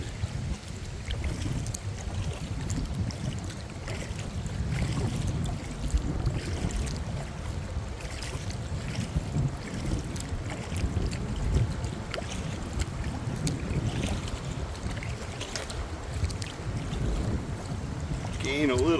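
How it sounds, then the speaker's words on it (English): Hard canoe paddling through rough water on Nelson Lake in the Adirondacks, with steady choppy splashing, wave slaps against the hull and strong wind rumble on the microphone throughout. "Gonna be some hard paddling up in this stuff."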